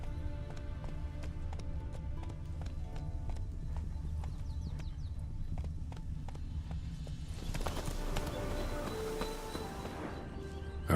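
Hooves of Roach, a horse in Witcher 3, clip-clop in a steady walking rhythm over a low ambient hum, with a livelier burst of hoofbeats and movement near the end.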